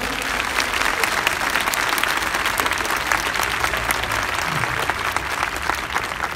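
A crowd applauds event stewards in reflective vests at an outdoor Łańcuch Światła gathering in Poznań, sustained dense clapping at an even level throughout with no pauses.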